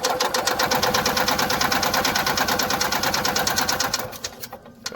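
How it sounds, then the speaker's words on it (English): A cold engine, started with the key on and the throttle pushed, turns over in a fast, steady rhythmic chugging that runs loud for about four seconds and then dies away. "give her key on, and all you do to start it is you just push the throttle"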